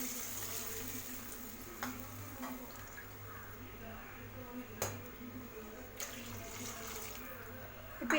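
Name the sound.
water poured into pan for rava kichadi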